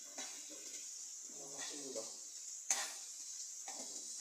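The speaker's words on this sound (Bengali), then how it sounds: "মশলাগুলো আরও বেশ কিছুক্ষণ কষিয়ে নেব, যতক্ষণ না পর্যন্ত তেলটা ভালোভাবে উপরে উঠে আসে" Spices and green chilies sauté in hot oil, giving off a faint, steady sizzle broken by soft stirring scrapes and one sharper clink of a utensil against the pan.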